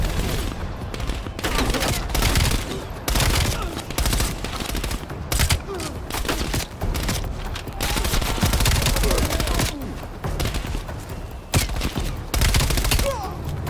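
Enemy soldiers open fire in Call of Duty: Black Ops Cold War, a near-continuous volley of gunshots and automatic fire that stays loud throughout with no clear pauses, and little or no talk over it.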